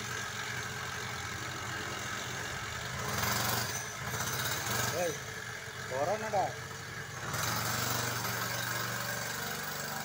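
A mini trail motorbike idles with its exhaust muffled to roughly half its usual loudness. It runs as a steady, fairly quiet mechanical drone with a few brief throttle blips partway through.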